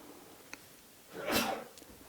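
A single sneeze from a person in an audience during a seminar, one breathy burst swelling and fading over about half a second against a quiet room.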